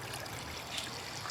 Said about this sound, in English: The idea is fill it up with water.